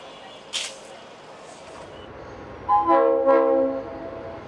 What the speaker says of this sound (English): Trains come and go, passengers rush past.